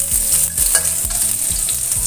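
Shallots fry in a pan with a steady, close sizzle and repeated scraping stirs throughout, with no talking.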